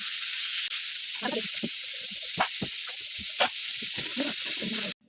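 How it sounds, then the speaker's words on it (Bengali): Vegetables with chopped ginger and shredded cabbage frying in a pan for a chicken momo filling, heard as a loud, steady hiss with intermittent stirring scrapes and clatters, close by with no talking, until it cuts off abruptly. "হালকা ভেজে নিয়েছি সবজিটা"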